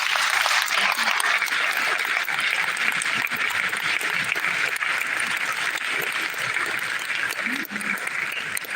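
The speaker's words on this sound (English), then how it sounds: "Round of applause, please" Sustained audience applause after a lecture on African farming and industrialization, dense and steady clapping from a large crowd for about nine seconds, no talk over it.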